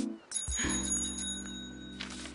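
A Tiger Bell bicycle bell on an electric blue bike in a Steven Universe cartoon episode gives a bright ringing tone that holds steadily for about two seconds over a low background hum.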